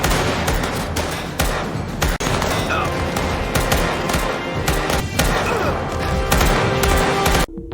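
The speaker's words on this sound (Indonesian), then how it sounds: "ia mulai mengambil senjatanya dan mulai menembaki mereka semua" Guards' weapons fire in a sustained, dense burst of gunfire, loud and close, with rapid overlapping shots and booms rolling on for several seconds before cutting off abruptly.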